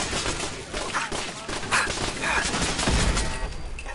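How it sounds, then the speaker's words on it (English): Pop-up turrets in Fallout 4's Nuka World Gauntlet fire dense, continuous bursts of gunfire, loud and sustained throughout with no speech. "Pop-up turrets!"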